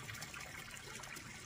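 Spring water welling up from underground at a rural drinking-water source, a steady soft trickle and gurgle of flowing water, fairly quiet and continuous with no voices.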